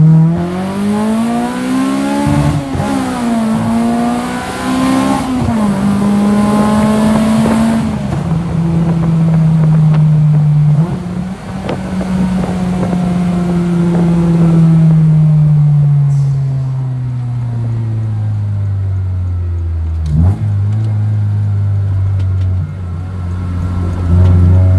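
An Acura RSX fitted with a VF5 gearbox and race-spec shifter accelerating hard, the engine revving loudly up through gears with pitch climbing and dropping at each shift, then easing off into a lower drone.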